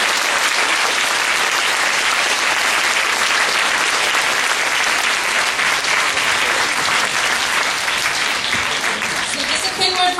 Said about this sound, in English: a big hand for our sound people, please